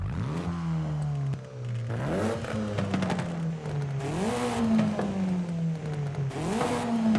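A 2-liter turbo car engine in Forza Horizon 5 revs up repeatedly, rising and falling in loud, close surges over a steady drone, with no talk.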